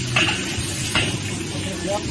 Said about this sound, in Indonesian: Bikin nasi goreng seafood ya.